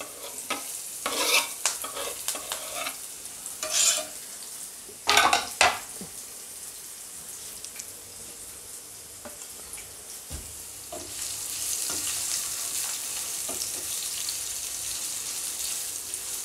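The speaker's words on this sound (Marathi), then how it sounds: "आता इथे बारीक चिरलेला कांदा आहे तो टाकणार।" Finely chopped onion frying in a pan with cumin, a soft steady sizzle under sharp scrapes and clinks of a spoon stirring against the metal, the frying growing louder toward the end.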